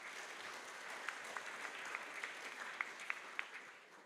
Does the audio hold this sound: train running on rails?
no